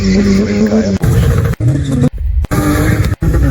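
A racing car engine in the video game Live for Speed revs repeatedly in short, choppy bursts, its pitch climbing and dropping between abrupt cuts.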